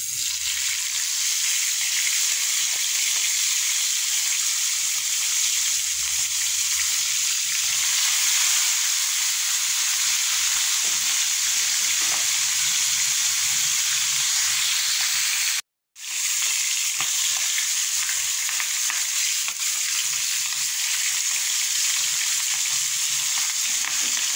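Continuous loud sizzle from food sautéing in a frying pan, steady and close for the whole stretch, with one brief cutout near the end.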